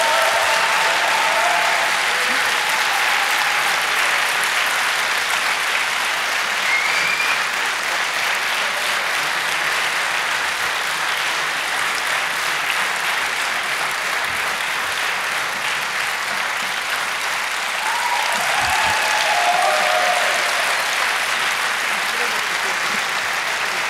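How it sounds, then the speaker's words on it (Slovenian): An audience at a business awards ceremony claps in sustained, dense applause that rolls on evenly for over twenty seconds, with a few faint voices beneath it. "hvala vam, spoštovani in spoštovane, za zlati aplavz"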